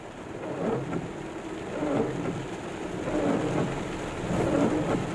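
A midday thunderstorm with steady rain hissing on surfaces, while low rolling thunder rumbles swell and fade several times, close and continuous, with no one talking.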